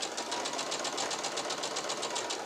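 A sewing machine stitches a quarter-inch seam through quilt-block fabric, a fast, steady mechanical whir with regular stitch pulses running continuously at close range, with no voices.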